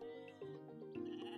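Sheep bleating in the farming sim game Equilinox: a short, wavering, nasal bleat rising in two pulses, clear and close, with no talk over it.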